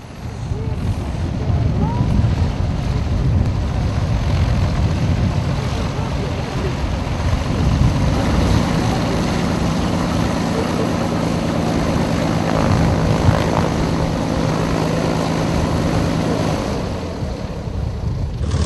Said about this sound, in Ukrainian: Це британські літаки клубу любителів старовинної авіації